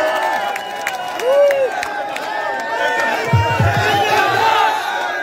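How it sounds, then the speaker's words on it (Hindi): A crowd at a protest sit-in site cheers and shouts to welcome MP Hanuman Beniwal, with whoops and rising calls over a busy outdoor hubbub. Clapping is hard to pick out. "सब भाइयों निवेदन है जोरदार तालियों से स्वागत करें"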